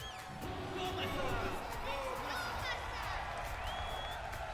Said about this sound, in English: Sorry about the crowd, the crowd voices. Can't really do anything about it. It's directly in the game.